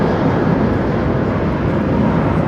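A jet aircraft roars at London Heathrow Airport, a loud, steady, broadband engine rumble that holds evenly throughout without voices.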